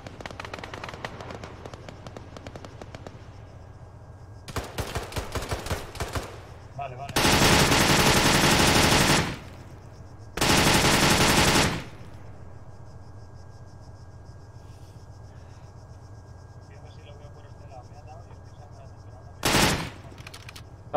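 Automatic gunfire in the tactical shooter ArmA 3, a cooperative Edessa mission with an MG4 machine gun: several long, loud bursts and a short final burst stand out over steady background game ambience and radio-like noise.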